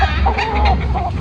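A young gamecock stag of the kanawayan type, crossed with Boston, gives a short, close, loud burst of clucking, a couple of quick throaty notes with no voices around.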